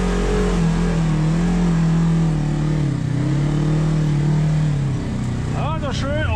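An off-road vehicle at an offroad park powers through mud, its engine droning loud and steady and rising in pitch, with a voice speaking briefly near the end.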